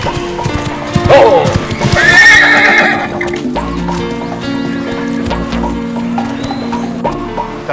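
Horse neighing loudly up close over the rhythmic clip-clop of hooves, heard in an outdoor scene while a woman calls out and someone speaks.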